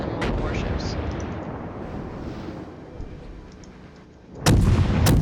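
Naval guns firing in World of Warships, a dense rumbling barrage filling the scene, dipping briefly before a loud, sharp broadside blast erupts near the end.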